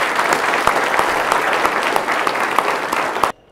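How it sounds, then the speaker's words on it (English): A dinner audience claps steadily for the cooks and serving staff, with thick sustained applause from many hands that cuts off abruptly after about three seconds. "give them a round of applause."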